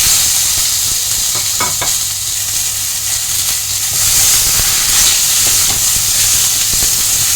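Ridge gourd and onion hit hot oil in a pan for a fish curry, producing a loud, continuous sizzle with crackling bursts and occasional stirring scrapes throughout.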